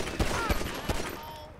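Gunfire in Grand Theft Auto 5, three sharp close shots in quick succession followed by a fading echo, loud and without talk over them.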